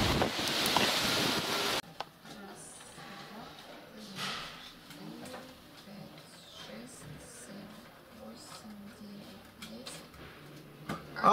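Wind gusts outdoors across the microphone, a loud rushing burst at the start settling into a steady low roar with faint voices and movement underneath.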